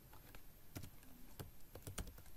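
Keys clack on a computer keyboard as code is typed, a quick irregular run of close, soft taps with a few sharper strokes and short pauses between bursts.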